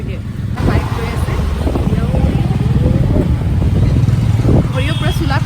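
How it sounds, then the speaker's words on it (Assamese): A motorcycle riding along a road on a cold evening, with a loud steady engine drone and heavy wind rumble throughout, up close and continuous. "বাইক গৈ আছে"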